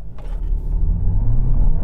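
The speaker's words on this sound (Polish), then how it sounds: "więc po prostu wcisnę pedał gazu" A VW Golf with a 1.5-litre petrol engine accelerates hard from a standstill, its engine a loud, steady low drone rising in pitch, heard alone without talk.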